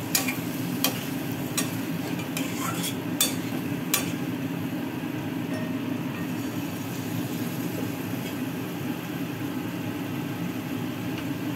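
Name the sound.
stirring and sautéing spice masala with water in pan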